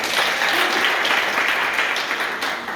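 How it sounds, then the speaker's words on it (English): Students in a school classroom clap together, steady dense applause at close range filling the whole short stretch without pause, no voices standing out. "Clap for him."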